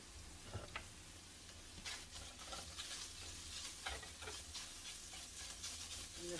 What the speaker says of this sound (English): Get this good and stirred up.